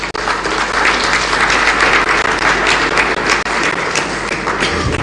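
Sustained applause from an audience at a peace pact signing ceremony at the Kempinski hotel, a dense steady wash of many hands clapping at full loudness with no voices over it.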